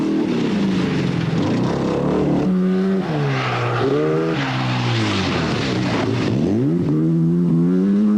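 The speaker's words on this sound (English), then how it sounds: "10th place Freckler is still noisy" A loud rally car engine roaring and revving close by at the 1982 RAC Rally, pitch sweeping up and down through gear changes, with gravelly road noise underneath.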